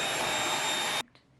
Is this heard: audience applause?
no